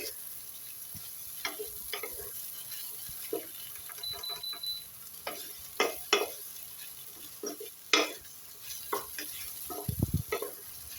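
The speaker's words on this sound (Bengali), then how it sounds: "ভালো করে নাড়াচাড়া করে নিলাম যাতে মিষ্টিটা মিশে যায়।" Fried potato, bitter gourd and pumpkin being stirred in a pan, with soft scattered scrapes and clinks of a spatula over a faint background hiss, fairly quiet and close.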